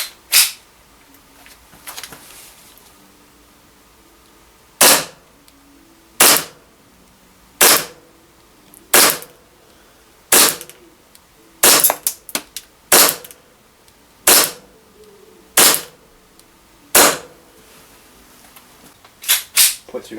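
An Army custom Staccato 4.3 Hi-Capa airsoft pistol fires 0.3 g BBs, about a dozen sharp, loud cracks spaced a second or so apart, a few closer doublets, alone with no talking.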